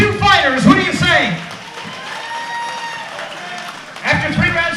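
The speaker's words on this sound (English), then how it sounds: "let's have a round of applause for these two fighters" An audience at a corporate heavyweight boxing event in Onehunga claps and cheers in a broad, steady wash after a fight, while an announcer talks over the start and end.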